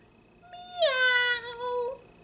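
A voice imitates a cat's meow in one drawn-out, rising then falling call, clear and close, with no other sound around it.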